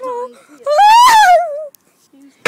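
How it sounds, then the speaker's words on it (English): A person lets out a loud, rising and falling scream after being hurt outdoors, a single drawn-out cry lasting about a second, preceded by short pained vocal sounds and followed by a sharp noise. "That was my scream."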